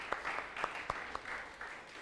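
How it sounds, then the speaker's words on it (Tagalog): A church congregation claps for Jesus during a service, a fairly faint patter of hands with a few sharper distinct claps standing out at an uneven rhythm over about two seconds. "The best pong palakpak para kay Jesus."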